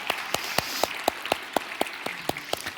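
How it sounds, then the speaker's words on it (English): A handful of people at a hall event clap in a sparse, fairly regular rhythm of about four distinct claps per second, close and moderately loud, with no voices over it. "I thought we should give them all a round of applause"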